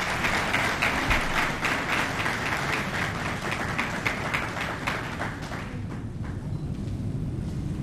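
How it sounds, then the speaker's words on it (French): An audience at a conference on sexual harassment bursts into sustained clapping, a dense rhythmic applause that thins and fades toward the end. "Sous vos applaudissements."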